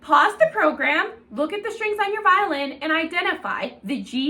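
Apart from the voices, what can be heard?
No everyday noise stands out behind the speech.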